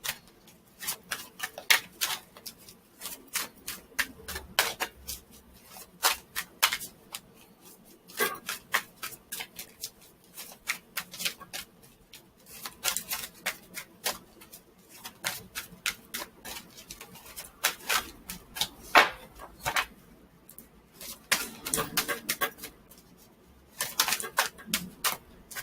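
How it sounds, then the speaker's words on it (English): Tarot cards being shuffled and pulled for a reading, a long run of close, crisp flicking and riffling clicks in uneven bursts that continues steadily without talking. "Let me just pull these cards."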